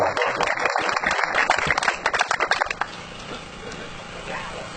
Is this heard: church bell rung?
no